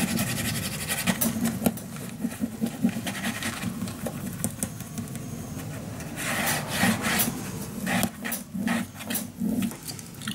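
Paper being burnished flat onto a mini album page by hand, heard up close as continuous scratchy rubbing strokes with uneven rhythm and occasional heavier passes.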